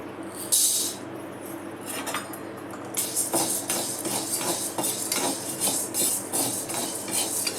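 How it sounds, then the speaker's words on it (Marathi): Sago and barnyard millet dry roasted in a pan, heard as close, irregular scraping and clinking of a spoon against the metal pan, with small grains rattling and stirring strokes picking up after a brief pause, no talking. "साबुदाणा आणि भगर भाजून घेते मी"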